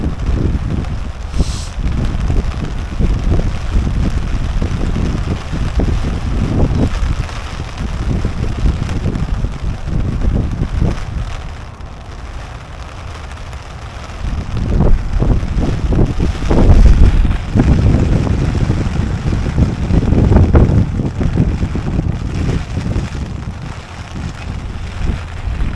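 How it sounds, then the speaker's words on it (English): Wind and rain buffet the microphone beside the water during spring carp feeder fishing, a steady rushing roar with gusty swells and occasional thumps, no voices. "Wind and rain is going to limit my ability to film this very well."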